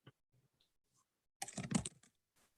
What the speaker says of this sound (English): Try typing something.